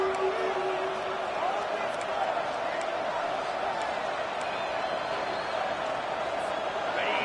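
Stadium crowd at a college football game between Air Force and Nevada, a steady, dense roar filling the whole stretch without sharp peaks, heard at a distance under the broadcast.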